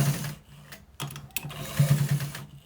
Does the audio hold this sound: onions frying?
no